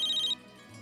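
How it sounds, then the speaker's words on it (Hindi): A phone rings with a short, bright electronic trill that stops abruptly after well under a second. "अरे उसी का फोन होगा"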